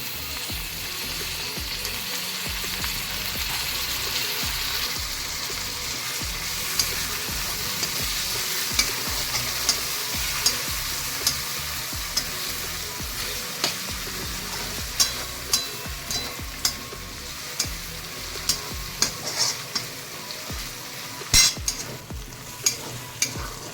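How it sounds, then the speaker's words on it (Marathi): Chopped tomato frying with well-sautéed onion in a pan, a steady close sizzle broken by repeated scraping and stirring clicks from a spatula, with no talk. "आता आपण घालूया टोमॅटो. कांदा चांगला परतलेला आहे."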